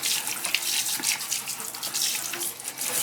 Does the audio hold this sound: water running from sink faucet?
yes